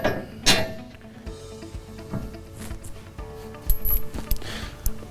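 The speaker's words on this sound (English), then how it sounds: "I'm going to go ahead and mount my bolts" Grade 8 bolts and hardware handled while a fuel pump skid plate is mounted: scattered metallic clinks, small jingles and ratcheting clatter, close and moderately loud, with brief pauses between bursts.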